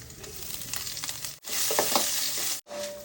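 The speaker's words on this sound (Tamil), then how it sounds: "எண்ணெய் ரொம்ப ஊற்ற வேண்டாம், கொஞ்சம் ஊற்றினாலே போதும். ஸோ இஞ்சியை சேர்த்துறோம்." Ginger sizzles in a little oil with urad dal, chana dal and green chili for mango rice, a loud, close, continuous frying hiss with stirring scrapes, cut by two brief silences.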